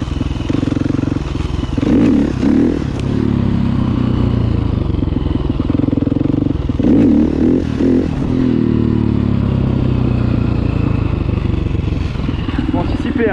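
Motorcycle ridden on its rear wheel in a wheelie, with a steady, loud engine drone and occasional throttle swells and clatter running continuously throughout.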